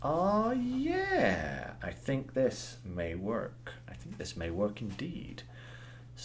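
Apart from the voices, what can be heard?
No distinct noise like a dog, phone or traffic.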